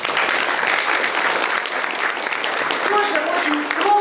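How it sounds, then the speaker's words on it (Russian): Audience applause at a round-table event on the history of Russian lands, sustained, even clapping from a seated crowd, with faint voices near the end. "мы сейчас подарим вам аплодисменты"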